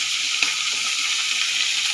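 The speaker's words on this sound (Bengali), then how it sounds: "ওই তেলে এরপর পটলগুলো ভেজে নেব।" Pointed gourds fry in oil with turmeric and salt, giving a steady, close hiss of sizzling with a faint stir or clink partway through.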